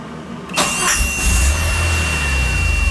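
A DeLorean DMC-12 starts for the first time after a starter motor replacement. A brief cranking whine catches and becomes a steady, rumbling idle, recorded up close and loud, with no talking.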